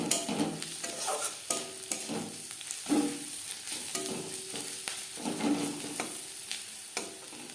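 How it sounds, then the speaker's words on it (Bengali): Onions frying in a pan with turmeric powder added, a steady sizzle broken by repeated stirring scrapes of a spoon, heard close with no talking. "পেঁয়াজ লালচে করে ভেজে নেওয়ার পর দিয়ে দিলাম হলুদের গুঁড়ো"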